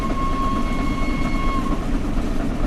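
The Flying Scotsman steam locomotive sounds a sustained, bright whistle of about a second and a half in the Train Sim World game, heard over the loud rumble of the running train at speed.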